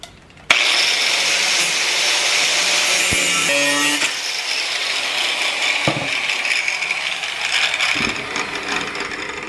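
A metal tomato stake is cut to length with a power saw, giving a loud, continuous grinding whine with brief shifts in pitch as the blade works through the metal.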